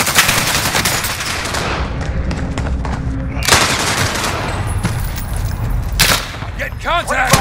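Rapid automatic gunfire in Call of Duty: Modern Warfare, loud bursts and rattling volleys over a busy battle mix, with a brief pause and a final scattered burst near the end.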